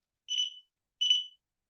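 A tamper alarm on a locked gun gives two separate high-pitched electronic beeps, each lasting about a third of a second, sharp and clear against silence.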